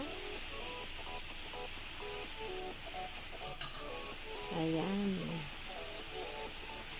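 Marinated beef steak for bistek Tagalog fries in a pan with little oil, a steady, close hiss of sizzling that runs throughout with a few clinks, while a voice talks over it.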